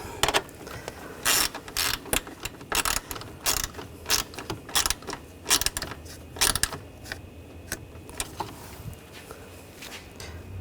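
Ratchet clicks snug down bolts on a 2013-2022 Buick Encore engine cooling fan assembly, coming in short bursts of rapid ratcheting with brief pauses, close up and fairly loud.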